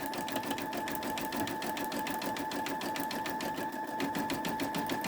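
A Babylock Esante embroidery machine stitching a sunflower design onto a towel, running with a fast, even mechanical needle rhythm and a steady whine, close and constant throughout.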